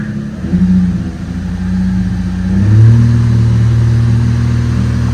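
An Infiniti G35 drift car engine revs up from idle with a rising, sustained throb, loud and close, then holds at a higher steady drone.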